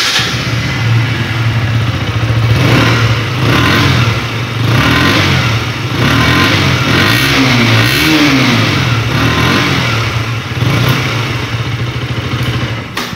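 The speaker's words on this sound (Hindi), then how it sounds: "let me make you hear the sound of the motorcycle which I usually miss" A KTM RC 125 motorcycle with an underbelly exhaust, standing in neutral on its side stand, idling loudly up close and revved in several rising and falling bursts, with no talk.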